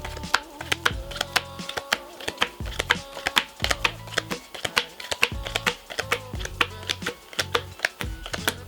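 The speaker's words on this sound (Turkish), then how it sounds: "Ben de buraya birkaç tane kart çıkartacağım. Ve çıkartıyorum." Playing cards are drawn from a deck and laid down flat on a table for a card trick, a quick, close series of crisp taps and clicks.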